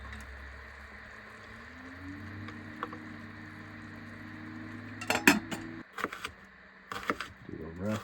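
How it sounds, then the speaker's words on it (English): At a Minnesota campsite, a knife roughly chops garlic into big pieces, a few sharp knocks on a board over a quiet low hum. "Just going to lightly chop that garlic in bigger pieces for flavor"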